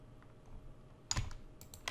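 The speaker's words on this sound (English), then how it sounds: "So I'll do Control C to copy it" A few quiet computer keyboard keystrokes, a short cluster of crisp clicks in a near-silent room as a key combination is pressed to copy code.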